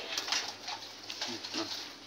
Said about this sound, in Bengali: দেখেন এই কবুতরটা উঠছে উঠছে